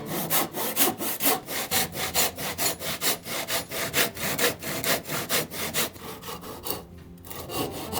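Hand saw trimming the top of a wooden tsuritsuka post in an old house renovation, with quick steady back-and-forth rasping strokes, close and loud, briefly pausing near the end.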